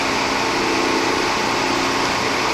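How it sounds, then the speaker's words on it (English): A power drill runs steadily, boring four holes through the metal tube of a small homemade mini propane burner. The motor whines continuously and loudly at close range with no pauses. "I'm going to want to drill 4 holes in here"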